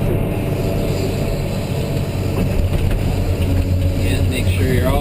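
A Caterpillar 988H wheel loader's diesel engine drones steadily and loud while digging into a pile in first gear, a continuous heavy rumble with rising whine near the end.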